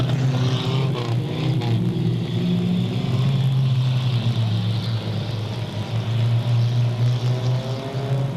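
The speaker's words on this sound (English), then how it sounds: "And the little VW is pumping." A small VW race car running at Delta Speedway, a loud continuous engine drone with steady pitch and slight wavering, no talk heard.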